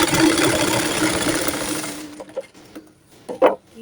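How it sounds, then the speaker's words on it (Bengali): Sewing machine running steadily while stitching a second line for a double seam on a baby girl's butterfly-sleeve top, continuous whirring for about two seconds, then stopping to leave only faint scattered clicks and handling noises. "আমি এখান থেকে আবারও আরেকটা সেলাই দিব"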